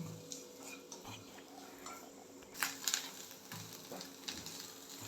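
Ridge gourd peels, green chili, garlic and sesame seeds stir-roast in a hot pan, giving a soft steady sizzle with scraping and clinking of a spatula against metal, a few louder rattles in the middle.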